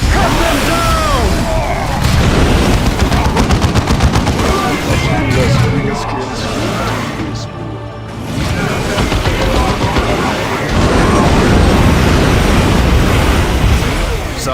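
Ork gunners unleash sustained gunfire in the Warhammer 40,000: Dawn of War II video game, a dense, loud battle din of rapid shots and booming explosions, with voices shouting over the fighting.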